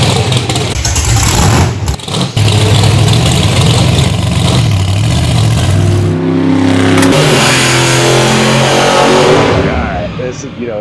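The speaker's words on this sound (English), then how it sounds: "if I sit in a monster truck and I fire that engine up" A monster truck engine fires up and revs hard, a loud, close roar that climbs through several rising pitch sweeps in the second half, after a steady low rumble earlier with voices mixed in.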